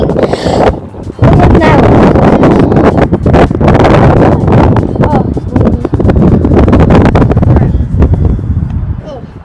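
Loud wind buffeting a microphone in heavy gusts, with rustling and a voice speaking over the steady roar.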